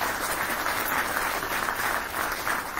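An audience claps together in a dense, even round of applause, steady and loud throughout, with no voices over it.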